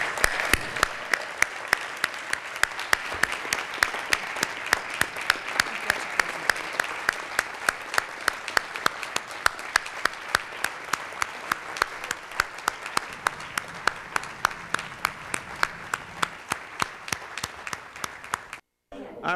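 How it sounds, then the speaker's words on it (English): An audience at a Louisiana State Medical Society awards ceremony applauds a Hall of Fame honoree, with dense, sustained clapping that holds steady for about eighteen seconds before stopping abruptly. "Let's show our approval by a round of applause."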